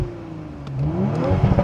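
An Audi RS5 in dynamic mode revs up close by, its engine note climbing over under two seconds, with a rough crackle near the end that may be exhaust pops.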